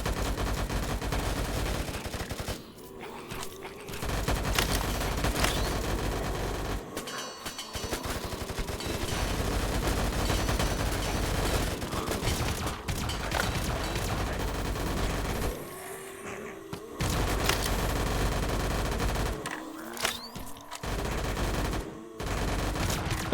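Rapid automatic gunfire in VRChat hammers on almost without pause, dense and loud bursts broken by a few short gaps.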